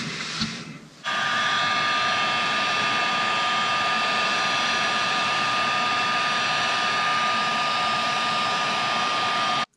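A heat gun blows a steady, loud, close roar as it shrinks heat-shrink tubing over antenna radial wires, starting up after a brief quieter moment and running unbroken to the end, with no speech.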